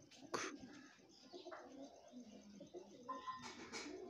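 Black-eyed pigeons kept as pets coo softly in a loft, with low, faint calls and a few brief chirps over a quiet background.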